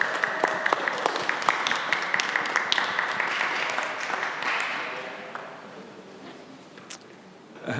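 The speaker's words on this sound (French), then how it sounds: "on peut applaudir un petit coup" A small group applauds at a car key handover for prize winners, with several distinct sharp claps standing out over the crowd clapping, which gradually fades to near quiet by the end.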